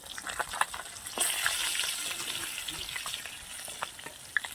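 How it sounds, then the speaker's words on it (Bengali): Koi fish frying in oil in a pan, a continuous soft sizzle with crackling pops and occasional sharp spits, fairly close and moderately quiet, without speech. "মাছগুলো আমি ভালো করে ভেজে নিচ্ছি।"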